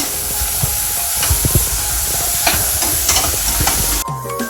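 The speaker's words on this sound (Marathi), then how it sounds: "हे आलं, लसूण आणि कोथिंबीरची पेस्ट ह्याला भाजून घेऊया." Ginger, garlic and coriander paste frying for a spicy mutton curry, a steady close sizzle with repeated stirring scrapes, ending in a brief quieter moment.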